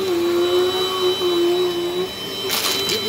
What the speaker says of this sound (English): But I need the vacuum anyways, guys.